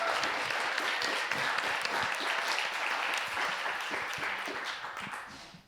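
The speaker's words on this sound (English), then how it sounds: "let's give all the competitors one more giant round of applause." Large crowd applause at a business pitch showcase, dense steady clapping from many hands, loud and sustained before fading slightly at the end, with no talk over it.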